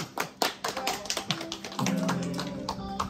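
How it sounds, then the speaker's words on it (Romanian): Scattered hand clapping from a small group at a family celebration, uneven taps at first that thicken into steadier applause, with a tonal sound and voices underneath. "Aplauze!"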